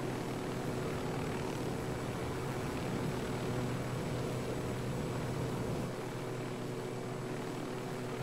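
A battered helicopter in a video game drones steadily with an even rotor and engine roar, loud and unbroken throughout, with no voices.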